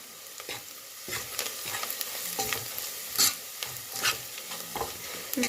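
Chili, turmeric and coriander powders stirred into lightly browned fried onions for a Tamil chana curry, with a steady sizzle broken by irregular scraping clinks of a spoon against the pan, close and moderately loud, no voices.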